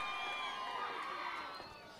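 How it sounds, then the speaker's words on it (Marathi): A crowd at a final match of the Lote Chashak 2025 tournament cheers and shouts for two seconds. The mix of voices stays fairly distant and tapers off toward the end. "आवाज येऊ दे, टाळ्या येऊ दे, शिट्ट्या येऊ दे"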